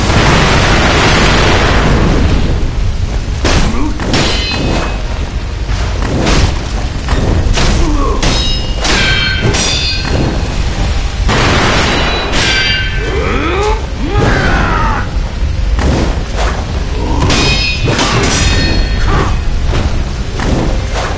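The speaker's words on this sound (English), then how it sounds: "His firecrackers do damage." Firecracker explosions during an owl boss fight in a video game, a string of loud booms and sharp pops spread across the stretch, mixed with game sound effects.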